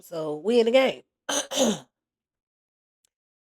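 A person clears their throat twice in a row, harsh and close, with a short gap between the bursts and silence afterward.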